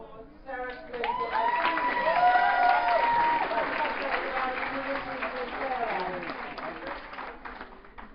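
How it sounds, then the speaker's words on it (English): Conference audience applauding and cheering for a speaker, a sustained wave of clapping that swells and then gradually fades, heard up close in an indoor hall. "So, can we have applause for Sarah Clayton?"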